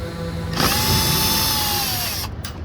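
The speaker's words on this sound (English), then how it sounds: "So I have one hooked up to my drill right here, and I'm just gonna go up there and work at it, see if I can get them loose." Power drill fitted with a star key working on car bolts during an oil change on a 2015 Ford Escape, a single loud whirring spin-up that runs steadily for nearly two seconds, then cuts off with a short final burst.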